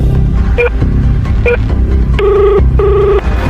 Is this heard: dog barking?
no